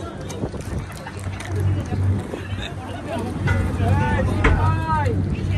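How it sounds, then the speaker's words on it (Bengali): A gunboat's motor drones low across the water as it passes, under nearby people talking and general background noise. "ওটা গান বোট চলে গেল"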